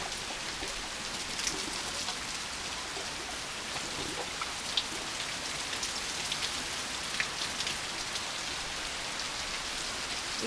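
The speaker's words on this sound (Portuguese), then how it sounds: "Como é bom ouvir esse barulhinho da chuva." Gentle rain falling without wind in the Bahia backcountry, a steady dense patter on surfaces with scattered louder drops, close and continuous, no voices.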